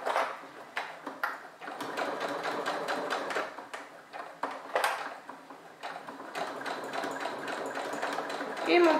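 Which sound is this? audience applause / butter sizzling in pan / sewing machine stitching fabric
sewing machine stitching fabric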